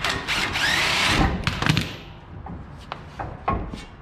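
A power tool on 19 mm bottom bolts of a Toyota Hilux during ball joint replacement. One sustained loud whirring run is followed by a few short clicks and taps of metal parts, close by, with no talking.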